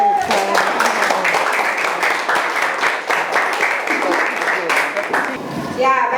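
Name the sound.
classroom applause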